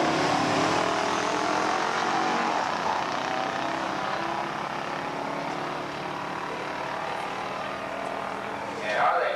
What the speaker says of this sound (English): So it's Corvette versus Dodge Hemi. Green light start for both races.